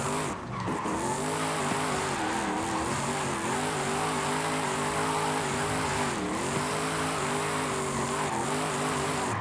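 Diesel Jaguar car with very high torque driving in Forza Horizon 5, a steady sustained engine drone with layered harmonics and continuous tire skidding and squeal throughout, loud and without voices.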